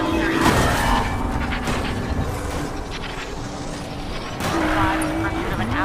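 Police sirens wail over engine roar and tire noise during a video game car chase after an Audi S5, continuous and loud, with radio chatter voices throughout.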